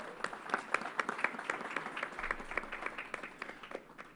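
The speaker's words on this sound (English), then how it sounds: "Let's give her a round of applause." A press-event audience at a state COVID vaccine announcement gives a moderate, somewhat distant round of applause, with steady overlapping claps throughout and no talking.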